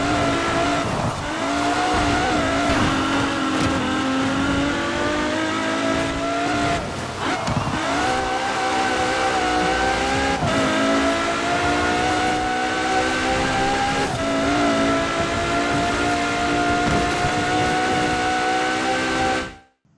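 A racing car engine roars steadily in Forza Horizon 4, a loud continuous drone with rising and falling revs through gear changes and occasional tire squeal, with no talk over it.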